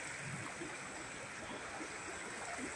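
Floodwater pours out of a temple pond onto a flooded lane, giving a steady, moderately faint rushing stream sound with no pauses, and no voices on top.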